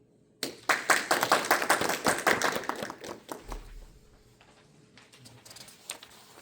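Audience applause welcoming a Buddhist monk lecturer at an academic talk: a burst of dense hand clapping starts abruptly, holds strong for about three seconds, then thins to scattered claps and fades.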